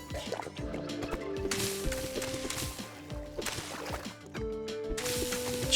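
In the 7 Days to Die video game, the player drinks water from a raw source, giving a series of quick, wet gulping and splashing sounds that repeat in uneven bursts.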